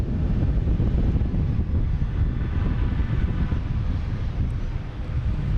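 A JetBlue airliner in retro livery at Boston Logan Airport gives a loud, steady low roar of jet engines, sustained and broad, with some wind rumble on the microphone.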